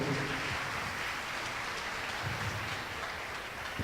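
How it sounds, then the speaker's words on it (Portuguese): A hall audience at a law conference held at a Catholic college applauds in a steady, hissing wash of many distant hands, fairly soft and unbroken throughout. "Uma salva de palmas, por favor."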